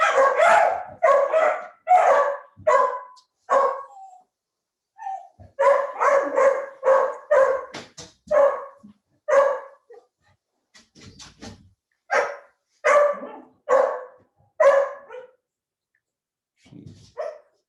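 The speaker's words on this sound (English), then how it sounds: "I'm talking about the dogs barking at the door" Several dogs bark in repeated loud bursts at a house door, volleys of sharp barks with short pauses between, a few yips and a whimper near the end.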